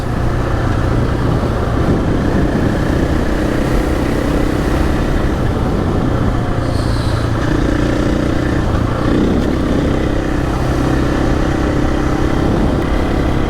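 A KTM 500 motorcycle ridden on a rough road, its engine a loud, continuous drone with wind rumble, steady throughout with no speech.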